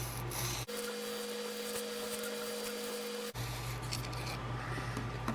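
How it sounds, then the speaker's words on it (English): A Havok Hoss 150 knife's single bevel is stroked along a sharpening stone, a steady soft scraping rasp with a brief pause partway through, set against a constant low hum, no talking. "I'm going to keep going on the single bevel side until I get a burr"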